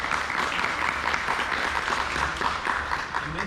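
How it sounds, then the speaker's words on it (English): Steady, dense applause from an audience after a talk on fencing in civilian and military contexts, a continuous even wash of many clapping hands at constant loudness with no gaps, heard from within the room. "Yeah, clap."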